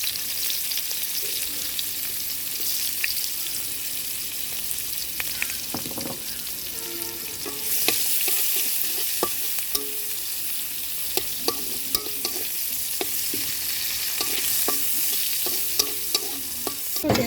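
Onions fry in a wok with a steady sizzle while a spatula stirs them, giving irregular scraping knocks and clicks that grow busier in the second half; close by, no talking.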